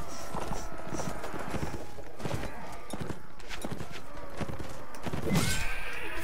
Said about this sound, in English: My horse! How dare you hit my horse?